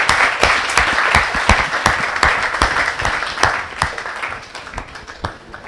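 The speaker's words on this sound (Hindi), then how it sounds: "एक बार तक जोरदार तालियों से उनका भी स्वागत।" Audience applause at a Hindi kavi sammelan poetry gathering, a dense, steady crowd clapping that stays loud throughout, with sharp individual claps standing out and no talk over it.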